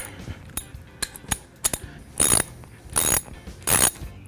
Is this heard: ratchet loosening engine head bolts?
yes